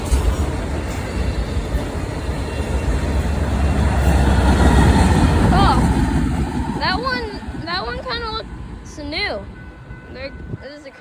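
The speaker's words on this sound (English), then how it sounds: "There's the other train." A BNSF freight train rumbles loudly past a railroad crossing, a steady heavy roar of wheels and cars that slowly fades, with crossing bells ringing near the end and people talking over it.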